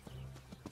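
A horse's hooves clip-clop at a slow walk. Several soft, dull thuds come at an uneven rhythm, fairly faint and close, with a low hum underneath.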